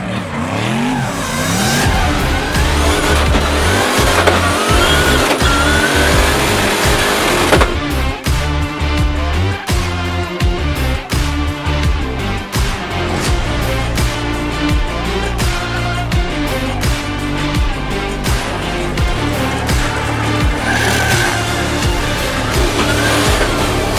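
An Aston Martin drift car with a twin-turbocharged LSA engine fitted with side mufflers roars and revs hard, with tire squeal and continuous loud engine noise close by throughout.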